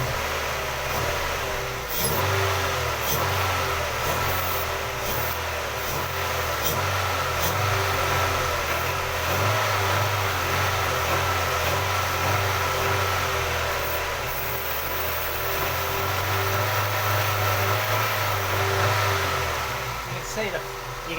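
A Honda car engine with a surging fault runs steadily close by, a broad mechanical drone with a couple of rises in engine note as it takes throttle, and no talk over it.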